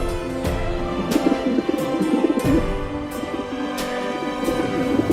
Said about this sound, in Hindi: वो रहा कमीना कबूतर